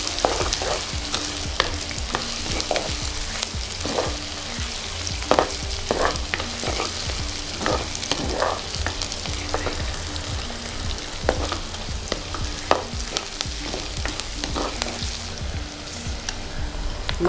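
Curry base for a Sri Lankan-style chicken curry sautéing in a pan, with a steady close sizzle broken by frequent scraping clicks of stirring, running continuously with no talk.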